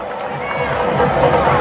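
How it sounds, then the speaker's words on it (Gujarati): An audience at a school event in Fudeda applauds in a dense, continuous wash of clapping with crowd murmur mixed in, fairly loud and steady throughout. "એક વાર તાળીઓ સાથે બતાવો."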